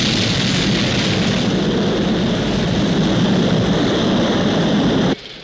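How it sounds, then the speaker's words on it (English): A rocket lifting off produces a loud, continuous roar that stays steady and dense for about five seconds, then drops off abruptly near the end. "We have liftoff."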